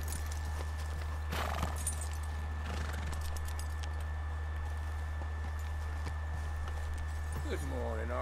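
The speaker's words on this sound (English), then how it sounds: "my horse is coming towards me while it shits" Horse hooves clip-clop in Red Dead Redemption 2 as the player's horse approaches, soft and steady over a constant low hum, with a brief whinny near the end.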